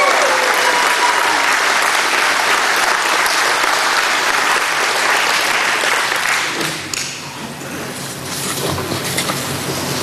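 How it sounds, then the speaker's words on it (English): A large crowd at an aviation hall of fame ceremony applauds loudly and steadily, the clapping dense and continuous before thinning out slightly toward the end. "Let's have a lot of applause tonight."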